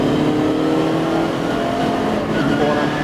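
Race cars, led by a BMW, accelerating hard out of the final corner onto the start-finish straight at Croft circuit after the safety car pits, a loud dense roar of engines throughout with a voice commentating over it.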